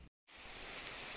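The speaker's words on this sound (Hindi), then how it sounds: "बादल भी गरज रहे हैं बारिश के साथ साथ।" Steady rain pours in a hillside Kedarghati setting, a soft continuous hiss that starts after a brief moment of silence.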